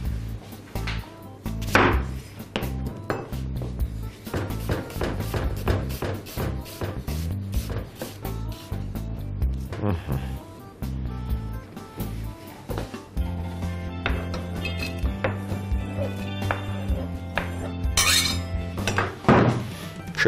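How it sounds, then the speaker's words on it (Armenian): A knife chops onion into half rings on a cutting board, with rapid rhythmic close thuds in bursts, broken by clinks of utensils and kitchen handling sounds. "Սոխ հարկավոր է կտրատել կիսա օղակներով։"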